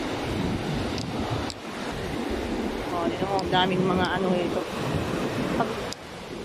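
Ocean surf washing onto a beach in Crete at high tide, a steady broadband roar with wind buffeting the microphone, while people talk nearby over it.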